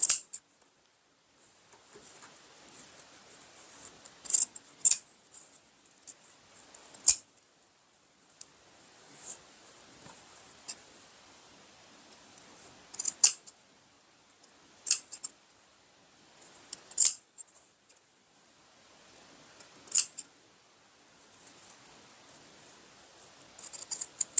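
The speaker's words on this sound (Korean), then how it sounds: "여기도 시접 정리를 해주는데 이렇게 잘라주세요" Scissors snip through the seam allowance of a denim jacket being sewn, giving sharp, dry clicks in short irregular bursts of a few cuts each, separated by quiet pauses, close and clear with no talking.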